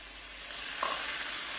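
Starch slurry hits onions sizzling in a pan with beef and garlic, a steady close hiss that surges briefly with a sharper sizzle midway, no talking.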